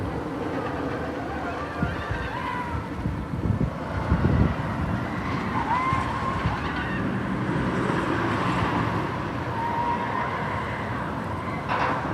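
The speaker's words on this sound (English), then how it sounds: "So you can come down here and feed the geese." Geese honk repeatedly outdoors at an amusement park pond, with several calls rising over steady wind and a background wash of noise.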